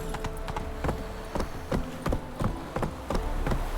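Roach, a video-game horse, trots with steady, evenly spaced hoof clip-clops, close and clear over a low ambient bed with no talk.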